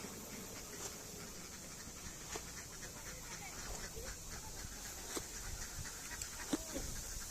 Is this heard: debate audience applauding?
no